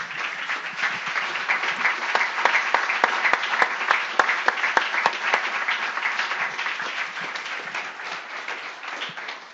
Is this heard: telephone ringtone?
no